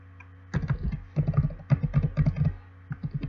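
Computer keyboard arrow keys pressed in quick bursts of soft, close clicks, several rapid taps grouped together with short pauses between clusters.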